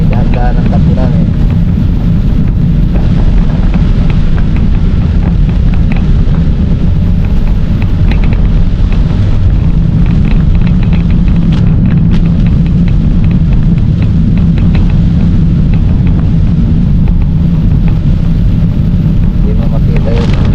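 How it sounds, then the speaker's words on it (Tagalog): Heavy rain pounding on a moving vehicle on a wet road, a loud, constant roar of drumming water and engine rumble filling the whole stretch without letup. "Malakas ang ulan"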